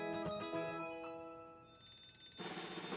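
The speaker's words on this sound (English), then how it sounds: "When the fire alarm rings" A cartoon fire alarm bell rings in bursts with electronic ringing tones, then gives way to a bright, noisy stretch near the end, loud and close with no talking.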